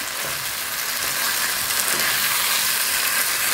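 Leftover curry reheating in a pan gives a steady, even sizzle and hiss, close and continuous with no talk.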